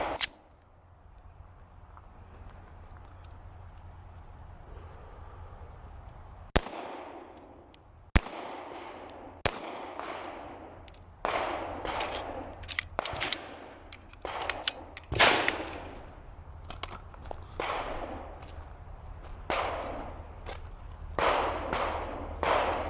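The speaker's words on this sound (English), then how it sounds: "So I'm gonna shoot 3 rounds." Sharp gunshots crack out one after another during shooting and tactical training, loud and close with some echo, starting after a quiet stretch and continuing irregularly, more than three reports in all.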